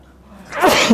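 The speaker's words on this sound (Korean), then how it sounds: "아이고 재채기가 나오네" A single loud sneeze bursts out partway through a classroom lecture on real estate tax law, building from quiet into a sharp, bright explosive blast near the end.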